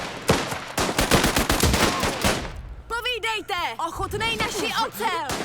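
Rifle gunfire in the video game Last Train Home, a rapid burst of cracking shots over the first half, followed by a voice speaking in game.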